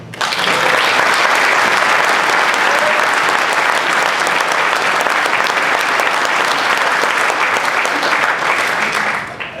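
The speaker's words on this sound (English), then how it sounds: "let's hear a round of applause for him" A seated audience at a UK Independence Party meeting with Lord Monckton bursts into loud, sustained applause, a dense, even wash of clapping that holds steady for about ten seconds before tapering off.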